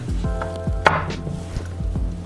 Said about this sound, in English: First, we're going to cut it in half and then into thin slices, and then cut those slices into thinner matchsticks